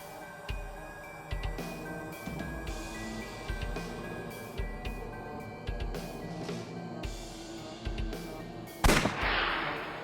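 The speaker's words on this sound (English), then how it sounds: "I'll try shooting it." Gunshots ring out in the video game AI: The Somnium Files as a series of evenly spaced, punchy reports over a musical backdrop, ending with a louder, sharper blast.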